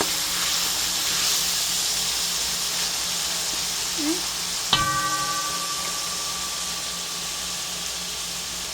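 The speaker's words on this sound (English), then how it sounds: "So the tomatoes and the onion and garlic and pimento saute up a good bit." Tomatoes, onion, garlic and pimento sauté in a pot, giving a steady, even hiss. Partway through, one clear metallic clank rings on briefly before the sizzle carries on alone.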